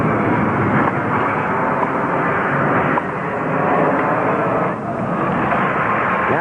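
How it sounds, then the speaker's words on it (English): Low, steady airplane engine roar passing over an outdoor tennis court during the 1972 U.S. Open final, a broad continuous drone that fills the whole stretch without a break. "the airplanes are coming so close or disturbing him, he can hardly hear himself think"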